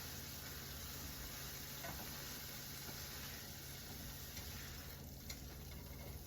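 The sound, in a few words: stirring beef and broccoli calzone filling in pan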